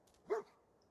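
A single short dog bark from the companion dog in the video game Fallout 4, quiet and somewhat distant against a soft background hiss.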